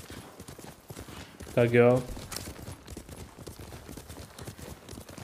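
Horse hooves clip-clop steadily at a riding pace in Ghost of Tsushima on PS5, with a brief louder whinny-like burst partway through and someone speaking Czech over the ambient game sound.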